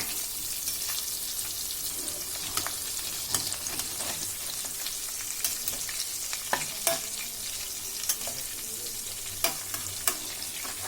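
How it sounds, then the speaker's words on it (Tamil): Fish fried in hot oil in a pan, a steady close sizzle with scattered sharp pops and crackles throughout. "அட்டகாசமாக ஃப்ரை ஆகிருக்கு."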